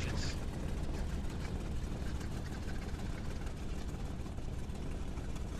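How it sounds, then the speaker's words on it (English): Twin engines of a Bf 110 aircraft in IL-2 idle on an airfield, a steady low rumbling drone holding constant and moderately loud before shutdown. "we're going to shut down our engines"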